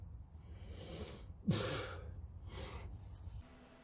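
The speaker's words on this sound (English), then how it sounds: "that was the sound of me retching." A man in a garage retches from the smell inside the engine cylinders of a 1958 wide block engine, with harsh breathy heaves and a strong gagging burst in the middle, close and without speech.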